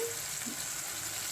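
Stuffed ridge gourd (gilki) is placed into hot fried spices in a wide kadhai, giving a soft, continuous sizzling hiss at a low level with no voices.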